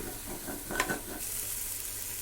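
Ground biryani masala paste sautés in a pan, a faint steady sizzle with one brief clattering stir of a spoon near the start, quiet and without talk.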